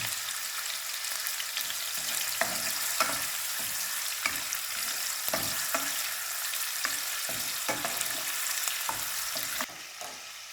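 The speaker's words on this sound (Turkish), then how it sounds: "Kızgın yağda bütün etrafını bir dağlamış oluyoruz" Meat searing in hot oil for Uzbek pilaf, a steady loud sizzle and crackle with occasional stirring knocks throughout, quieting slightly near the end.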